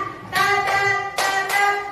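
A few sharp hand claps from a group counting along, spaced in an uneven rhythm, ringing over a sustained steady musical tone in the background, fairly loud and near, without speech.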